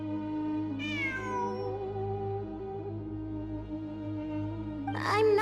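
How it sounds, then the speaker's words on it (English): A cat meows twice, one long rising and falling call near the start and a sharper, shorter one at the end, both clear and close over a steady low background hum, with no speech. "It really is a cat."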